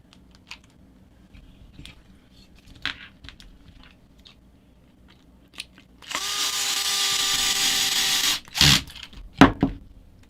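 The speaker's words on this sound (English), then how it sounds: "Loud power tools. Yep," A loud power drill whirs steadily for about two seconds, followed by a couple of short bursts, after quieter clicking and handling sounds, during assembly of a Vanquish VS4-10 LS post RC crawler.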